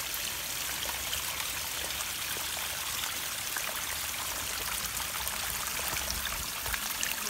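Water gushing from a long-standing leak out of a thicket on a roadside slope, a steady rushing, trickling flow with splashy detail, moderately close and continuous, with no voices.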